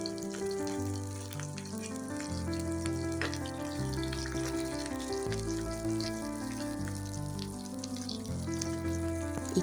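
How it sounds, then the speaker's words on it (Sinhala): Red onions frying in hot oil in a pan, giving a strong, continuous sizzle close by, with music playing underneath. "අර රතු ලුණු ටික දාගන්නවා."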